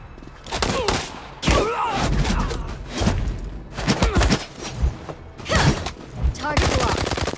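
Gunfire in Marvel Future Revolution, repeated loud bursts of automatic shots and thuds in clustered volleys, close and punchy, with voices speaking between bursts.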